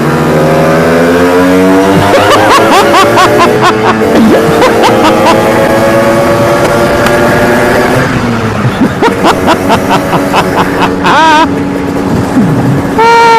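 A Casa Performance Sledgehammer 333 scooter engine revs up repeatedly, climbing in pitch as it accelerates, loud and close, with brief drops between pulls.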